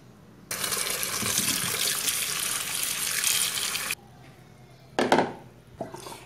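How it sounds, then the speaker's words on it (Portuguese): Tap water runs steadily over strawberries being rinsed in a sink, a broad continuous splashing rush that stops abruptly, followed by a few short handling splashes and knocks. "E passar uma outra água limpa da torneira em todos os morangos"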